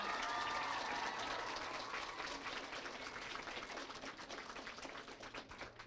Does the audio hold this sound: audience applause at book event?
yes